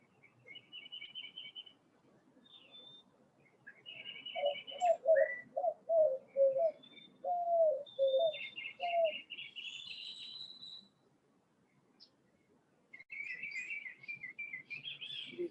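Birds sing on a morning outdoors, a mix of high chirping, trilling phrases and lower whistled notes, repeated in bursts and fairly close, with faint insects buzzing beneath and no talking.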